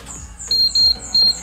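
A kitchen timer beeps while eggs boil for pork and chicken adobo, with three bright, close electronic beeps in quick succession.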